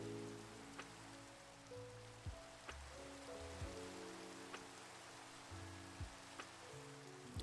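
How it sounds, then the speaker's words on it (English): Soft, steady rain falls in a video game, a faint continuous hiss with scattered brief drop-like ticks, played under quiet low musical tones. "I don't know why it's gotta rain like this."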